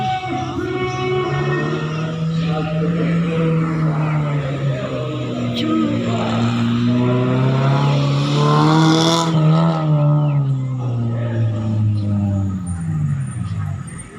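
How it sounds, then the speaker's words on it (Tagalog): Race cars at a car contest rev loudly, their engine pitch sweeping up and down in long, overlapping waves close by, with people talking underneath. "Contest ng mga kotse yan."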